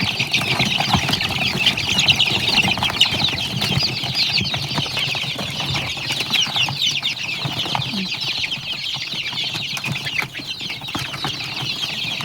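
A flock of country chickens in the Malnad region clucking steadily and busily while squabbling over food, with occasional wing flaps and scratching, close and continuous throughout.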